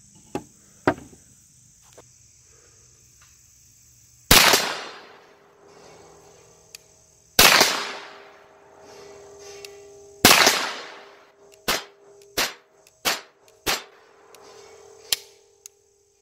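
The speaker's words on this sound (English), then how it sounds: "I'm going to shoot that 124 grain factory ammo, get a group" Shots from a 9mm Kel-Tec Sub 2000 carbine firing 124 grain factory ammunition at an outdoor range crack out loud and near, with three big booming reports and then a quicker string of shots, all over a steady chirp of crickets.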